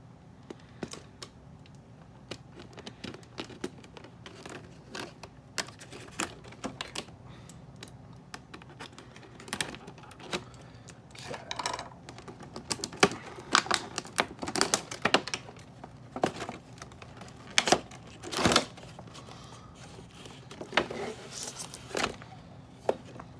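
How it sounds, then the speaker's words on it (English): Tape being peeled and torn off a Rainbow High doll box, heard as a long run of irregular crackles, ticks and snaps, close and fairly quiet, with occasional louder clicks and no talking. "So we're going to go through and get rid of her tape."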